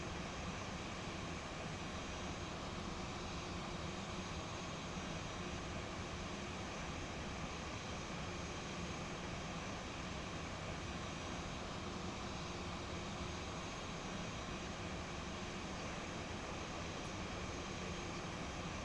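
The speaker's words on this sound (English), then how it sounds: "Kind of a cool view with that Dash 8 being pushed out with their engines running." A Dash 8 turboprop's engines run as it is pushed back at an airport in a flight simulator, giving a steady, dense, unchanging roar that fills the whole clip with no talk.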